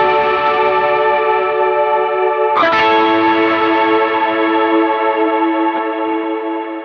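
Electric guitar played through a pedalboard with an equalizer preset and chorus, toned to resemble a Gretsch White Falcon: a shimmering sustained chord rings out, is strummed again sharply partway through, then sustains with no voices.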